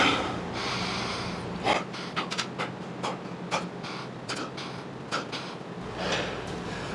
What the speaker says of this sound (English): Now I'm going to breathe for 8